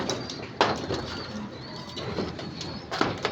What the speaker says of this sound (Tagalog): Nagdapo na sa poste mga kalapatid.